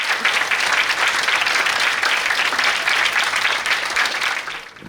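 Sustained applause from a studio audience at a youth talent and debate show, dense and steady clapping for about five seconds before tapering slightly at the end.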